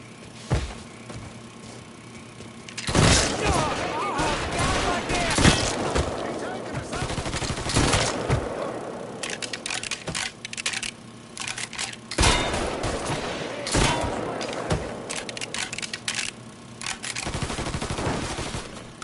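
Gunfire in the video game Mafia III comes in repeated rapid automatic bursts with brief pauses between volleys, loud and dense, with game sound and occasional voices mixed underneath.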